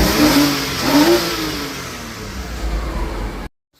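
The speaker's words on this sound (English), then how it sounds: "Hold on, I gotta rev it up." A Porsche engine revs hard twice in quick succession, rising and falling, then settles into a rough idle before cutting off abruptly; close and loud with no talking.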